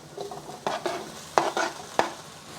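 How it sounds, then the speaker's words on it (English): Spam pieces sear with softened onion in a hot pan, a light close sizzle under several sharp scrapes and taps of a spatula against the pan. "sear for a minute before flipping before we just start moving it around"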